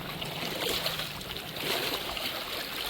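Wind-driven waves from the Mekong splash and wash against the riverbank at Vientiane, Laos, in a strong wind. Rushing water and wind noise stay steady and full throughout, with no voices.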